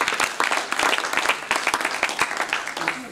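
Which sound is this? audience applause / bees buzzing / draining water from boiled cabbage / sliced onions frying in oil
audience applause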